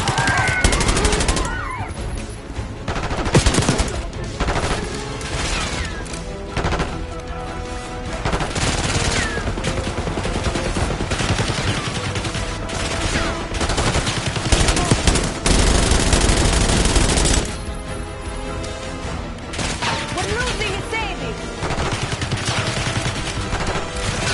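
Dense, sustained automatic gunfire and rapid bursts in the Black Ops 6 video game, loud and continuous over about twenty-four seconds, with a chaotic mix of shots, crashes and faint background voices.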